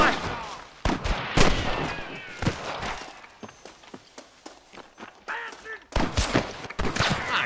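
Gunfire in the Red Dead Redemption 2 video game, a burst of loud shots early on, then a run of sharp separate cracks at an irregular pace, with horse hooves and voices mixed in.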